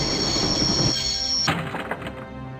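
A train in the Broken Sword video game rumbles and clatters with a high squealing tone, then a heavy thunk gives way to a sequence of knocks and clanks as it slows.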